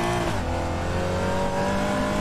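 A GT4 race car engine in the RaceRoom racing game holds a loud, steady high-revving drone with a faint shift in pitch, dense and continuous throughout with no pauses.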